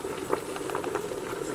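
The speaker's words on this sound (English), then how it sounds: "It's bubbling." Cook-up rice bubbling in a pot outdoors in a backyard, a steady close simmer of soft, continuous popping bubbles with no talking.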